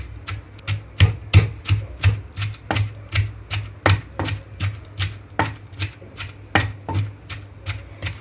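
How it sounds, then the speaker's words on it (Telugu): Green chillies, cumin and coriander pounded in a stone mortar: a steady series of about twenty sharp, close thuds, roughly two or three per second, with no voices. "ఇక్కడ పచ్చిమిరపకాయ చిన్న చిన్న తొనకలుగా వచ్చే వరకు ఇలాగే కొంచెంగా రోట్లో దంచుకోవాలి"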